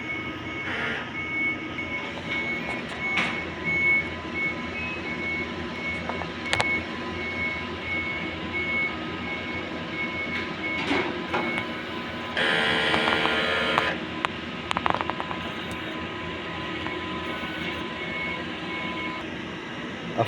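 A Smart 6ft single-head sublimation printer runs a head-clean cycle, giving a continuous mechanical whir with faint tonal whines, occasional clicks and a louder burst of motor noise partway through.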